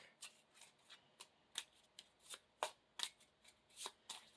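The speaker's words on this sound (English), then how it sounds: "And then you shuffle the encounter deck." Cards from the encounter deck of the Marvel Champions card game are shuffled in a string of quick, crisp riffle bursts, each a short papery flutter with small gaps between, close and fairly quiet with no talking.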